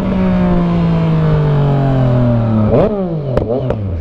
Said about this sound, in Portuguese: Só uma esticadinha no acelerador.